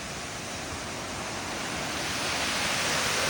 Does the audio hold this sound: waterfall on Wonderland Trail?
yes